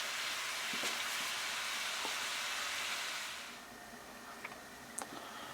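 Pork and beef mince browning in a pan gives off a steady, broad sizzle that fades noticeably partway through, leaving a quieter hiss with a few sharp pops and ticks near the end.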